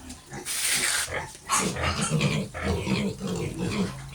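An 80-kilo pig grunting, rough low snorts and grunts close by, one after another in irregular bursts, with some noisy shuffling between them.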